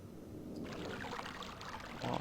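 Flowing water in the realMyst video game, a steady broadband wash that swells slightly louder near the end, heard alone without voices.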